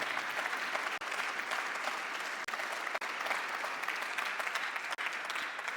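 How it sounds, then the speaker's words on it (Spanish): A church congregation applauding during a sermon, a steady wash of many hands clapping together, even and sustained, somewhat distant and with no voices over it. "Denle un aplauso fuerte al Señor."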